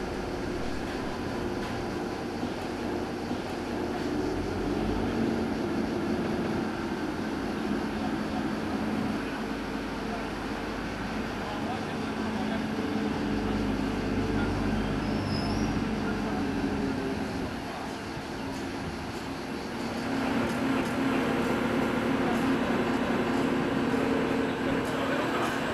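A new rack railway railcar arrives on the 950 mm Strub rack line at Catanzaro Lido, Calabria, with a steady low engine rumble and mechanical drone that swells and shifts, heard from close by.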